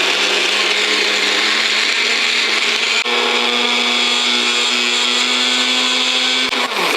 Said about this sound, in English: It's time to blend it up just to create a finer paste.